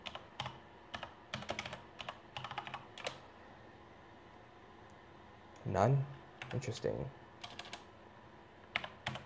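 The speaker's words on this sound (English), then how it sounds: "So I'm typing with one hand because I'm holding the mic up with the other." Someone types on a computer keyboard with one hand, producing scattered bursts of light clicks with pauses between them, and someone speaks briefly in the middle.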